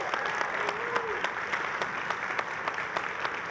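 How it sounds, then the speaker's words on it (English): Audience applause at a live Salesforce release-readiness event, a steady wash of clapping throughout with faint vocal sounds mixed in. "We need another round of applause for Sam and Diana."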